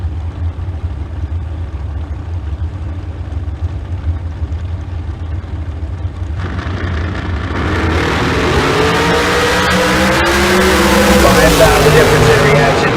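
Super Pro drag race cars start as a low distant engine rumble, then a loud roaring launch kicks in around halfway and builds, with a commentator's voice running over the noise.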